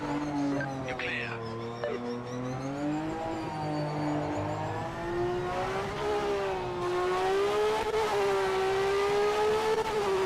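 A race car engine in the Project Motor Racing video game revs steadily, its tone rising and falling in smooth sweeps as it holds a loud, continuous drone for about ten seconds with no talking.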